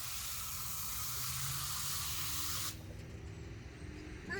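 A hand sprayer mists water onto a tomato plant in a budget home garden, giving a steady, loud, close hiss that cuts off abruptly partway through, leaving a quieter background.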